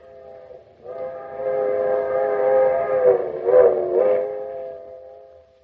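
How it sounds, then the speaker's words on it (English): A train whistle sounds in the distance within an old-time radio drama, a steady, layered tone held for about five seconds with two swelling peaks near the end, with no talk over it. "We can even hear the train from here."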